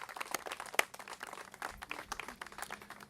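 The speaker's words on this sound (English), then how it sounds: "So let's give them a round of applause." Applause from an outdoor audience at a park renovation event, with scattered hand claps mixed into a faint, uneven patter, heard from a distance.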